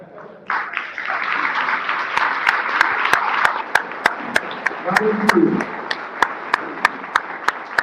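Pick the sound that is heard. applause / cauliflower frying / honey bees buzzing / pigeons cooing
applause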